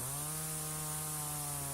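A Parkside electric pole pruning chainsaw runs at a steady pitch, a continuous buzzing whine with no cutting load and no voices.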